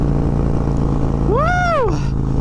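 A Harley-Davidson M8 Bagger fitted with an S&S Sidewinder 2-1 exhaust rides along, its engine drone loud and constant, while a rising-then-falling whine sweeps briefly through the middle of the pass.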